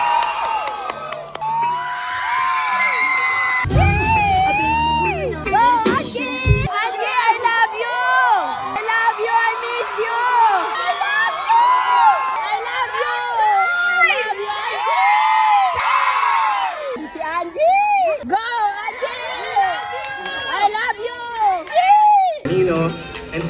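A large concert crowd cheers, screams and whoops loudly and continuously, with children's voices shouting and a few claps mixed in, a near, dense roar that rises and falls throughout.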